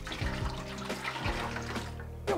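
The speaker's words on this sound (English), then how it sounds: "I'm gonna use the cold water to rinse out the pan." Cold tap water runs into a pan to rinse it while making mango wine, a faint trickling splash with some clattering and tonal ringing from the pan, ending in a short clink.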